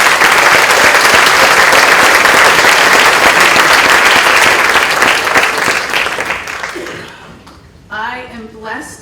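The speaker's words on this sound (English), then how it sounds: "Now you may applaud." An audience at a physician assistant program white coat ceremony applauds loudly in a sustained wash of clapping that fades out, after which a voice begins speaking.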